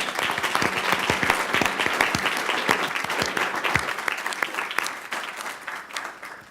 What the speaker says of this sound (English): Charlie, I guess we have to start out with at least one round of applause